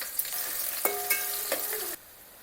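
Onions and green chilies frying in hot oil with biryani spices, a loud close sizzle with stirring clinks and a ringing utensil tone, cutting off abruptly before the end.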